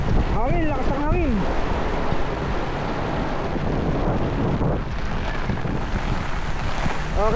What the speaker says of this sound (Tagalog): Oh, ulan, grabe. Hangin, lakas ng hangin.